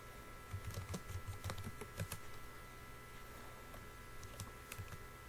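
Keystrokes on a computer keyboard as commands are typed into a Windows command prompt to open an SSH connection, quick irregular clicks over a steady background hum, moderately close and fairly quiet, no voices.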